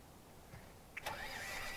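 A tractor engine in the video game Farming Simulator 2013 starts up and settles into a quiet, low, steady rumble, faint and with no talk.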